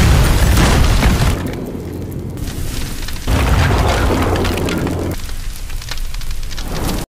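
A bomb blast in a warehouse, with loud rumbling booms that swell, ease and return in several waves over a few seconds, close and heavy, with no talk.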